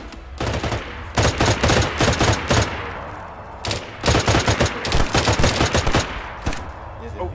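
Gunfire in DayZ on the Namalsk map: repeated automatic bursts and rapid loud shots in several volleys, close and sharp, with short quiet gaps between them.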